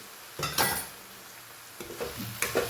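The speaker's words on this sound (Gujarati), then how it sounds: "કોબી આપણી પાકી ગઈ છે, લાલ મરચું એડ કરી દઈએ," Cooked cabbage with red chilli stirred in a pan, with three short scraping strokes of a spoon against the metal, close and moderately loud, separated by quiet pauses.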